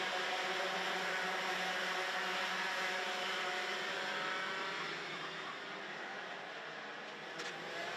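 X30 junior racing kart engines whine steadily as the field runs on a circuit during a race heat, a continuous, fairly loud high buzz that fades slightly toward the end, with no talk.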